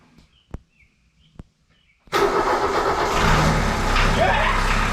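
A Volkswagen MK1 Rabbit engine cranks with a couple of clicks before firing up for the first time into a loud, rough, steady running roar up close.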